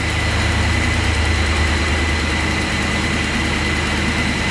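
A repaired truck engine idles steadily and strongly, a continuous low rumbling drone with no talk over it.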